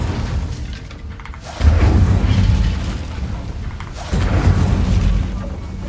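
Two deep, booming explosions from the Incendio fire spell in a wizard video game erupt a few seconds apart, each followed by a rumbling tail.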